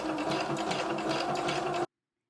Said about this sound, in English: So just go ahead and begin sewing until you get to the end.